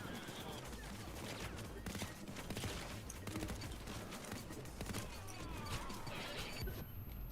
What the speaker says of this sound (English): I shot at it with my shotgun and it did not hit.